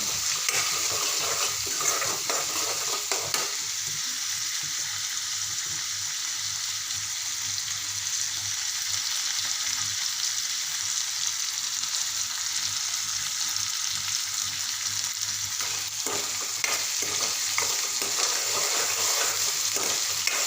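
Finely chopped tomato sautéing in oil with spices in a pan, a continuous dense frying hiss and sizzle with occasional stirring scrapes, steady and close throughout.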